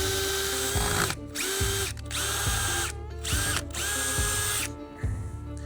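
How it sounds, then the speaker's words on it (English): An impact driver working on a rusty deck screw in an aging wooden deck, firing in repeated bursts of loud rattling hammering, about five pulses separated by brief pauses, close up with no talk. "Even with this kind of drill, this screw snapped."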